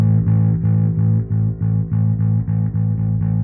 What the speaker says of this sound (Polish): Po prostu sam w torze efekt drive